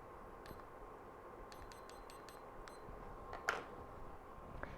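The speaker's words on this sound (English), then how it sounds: "Let's set this timer now." A kitchen timer is set while baked portobellos and potatoes cook, giving a quiet series of short electronic beeps in small clusters over a faint room hum, with no talking.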